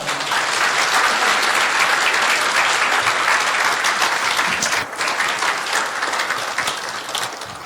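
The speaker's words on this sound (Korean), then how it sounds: "이서 목사님 나오실 때 큰 박수로 환영해 주시기 바랍니다." A church congregation applauds loudly to welcome a pastor to the pulpit at a Sunday service, a dense, steady wash of clapping that fills the room for several seconds and eases slightly toward the end.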